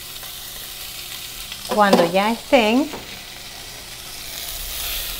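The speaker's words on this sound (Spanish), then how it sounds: "Tenemos que freírlos con el fuego bien alto." Food frying in oil over high heat while cooking an Ecuadorian lunch gives a steady, soft sizzle throughout, with someone briefly speaking over it midway.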